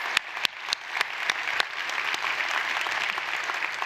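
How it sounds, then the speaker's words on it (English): An audience at a school district's annual celebration of excellence, held in a church, claps. A few distinct claps near by swell into sustained, moderately loud applause from the crowd. "Can we give them a round of applause?"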